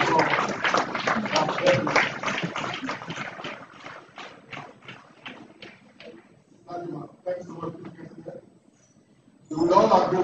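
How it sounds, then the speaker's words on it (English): A large audience at a university convocation lecture in Benin applauds with dense clapping that gradually thins and dies away; then a voice starts speaking. "large applause."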